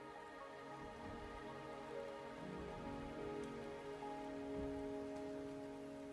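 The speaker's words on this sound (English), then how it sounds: "The rain is subsiding, and the sky will soon clear." Steady rain falls in the video game Wuthering Waves, a continuous hiss of drops on surfaces layered under sustained tonal game music, with no talking.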